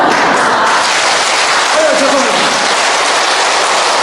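A church congregation claps together in a steady dense roar of many hands, loud and continuous throughout, with a faint voice briefly audible partway through.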